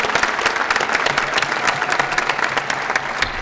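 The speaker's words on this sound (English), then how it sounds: "Let's give Natalie a round of applause." Conference audience applauding after a business pitch at an elevator pitch competition final, a dense steady wash of clapping from a sizable crowd, sustained and even throughout.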